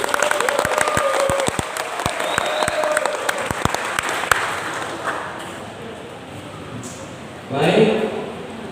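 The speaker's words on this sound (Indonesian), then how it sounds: "para penonton yang hadir saya minta serta tepuk tangan semua" Audience applause at a semifinal quiz competition: a scattering of sharp, distinct claps under a speaking voice, thinning out midway into quieter room noise, followed by a brief burst of louder crowd sound.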